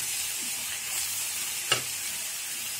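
Capsicum and cabbage sautéing in a pan give off a quiet, steady sizzle with faint stirring scrapes and one brief sharp clink near the end, with no talking.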